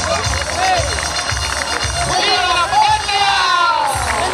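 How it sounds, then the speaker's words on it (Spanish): Crowd at a bull riding event in La Verde, noisy with cheering and scattered clapping over steady hubbub, while rhythmic low thumps, likely music, pulse underneath throughout. "¡Fuerte el aplauso!"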